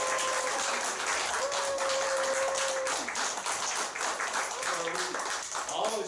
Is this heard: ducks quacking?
no